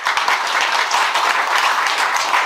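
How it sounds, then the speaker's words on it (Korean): Audience applause at the close of a Buddhist dharma talk by a monk, a dense, steady wash of many hands clapping that stays loud and even throughout, with no speech over it. "하림 스님께 큰 박수로 다시 한번"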